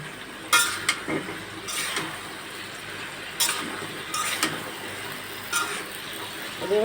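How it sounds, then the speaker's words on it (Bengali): Cut flat beans and potatoes are stirred into a curry in a pan, a spoon scraping and clinking against the metal in sharp, irregular strokes over a soft sizzle, close to the listener. "এই যে সিম আর আলু একসাথে কেটে রেখেছি সেগুলো দিয়ে দিব এখন ভালোভাবে মিশিয়ে নেব"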